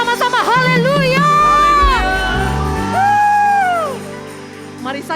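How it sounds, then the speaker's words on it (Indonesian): A church congregation at a Pentecostal Sunday service in Batu Aji cheering and whooping loudly, with shouts and sustained crowd voices rising and falling across the whole stretch. "Tepuk tangan yang terbaik sampai belakang buat Tuhan kita"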